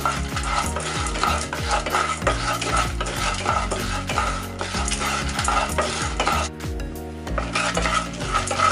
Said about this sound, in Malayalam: എന്നിട്ട് കുറച്ച് നേരം ഇളക്കുക.